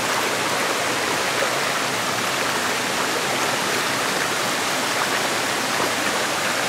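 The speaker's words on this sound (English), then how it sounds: "Oh, I hear the waterfall." Steady rushing water from a waterfall fills the scene, a broad, constant roar heard up close and alone, with no voices over it.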